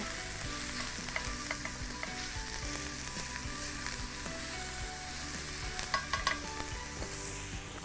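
Onions frying in a pan give off a continuous, even sizzle, with a few brief stirring clicks.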